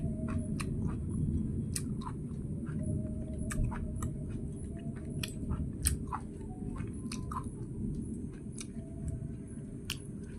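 Close, steady chewing of a meal of bottle gourd greens cooked in a shrimp curry, with soft wet bites and small crunches repeating at an even pace and no talking.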